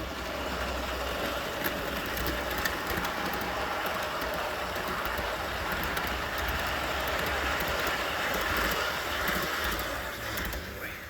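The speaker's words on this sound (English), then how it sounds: "let's catch this train coming by." An O scale model train rumbles past steadily for several seconds with a continuous rolling clatter and faint clicking, fairly close and even in volume.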